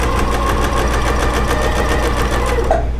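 A sewing machine stitches quilt pieces along diagonal lines, its needle running in a steady, fast rhythmic chatter with a low motor hum. It is loud and close, with no talking.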